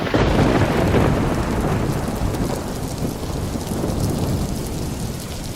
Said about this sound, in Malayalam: കറക്റ്റ് സമയത്ത് നല്ല പൊരിഞ്ഞ മഴ